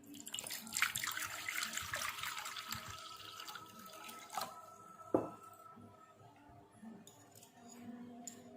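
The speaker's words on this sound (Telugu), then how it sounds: "ముందుగా ఒక బౌల్ తీసుకొని వాటర్ పోసుకుందాం" Water is poured into a bowl in a home kitchen, a faint splashing stream for several seconds followed by a few light clinks and drips, quiet and close.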